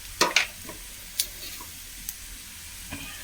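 Onions and roasted chana sautéing in a pan make a faint sizzle, with a few sharp scraping and clinking stir strokes near the start and scattered softer taps afterward.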